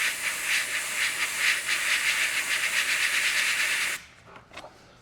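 An airbrush sprays paint through a stencil in a steady close hiss for about four seconds, then cuts off, leaving faint intermittent puffs.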